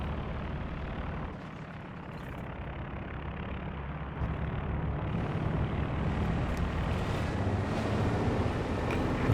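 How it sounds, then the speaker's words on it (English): A recon plane flying over the battlefield in the strategy game Company of Heroes 2, a steady broadband engine drone holding at even loudness throughout with a slight swell partway, no voices over it. "With the recon plane going."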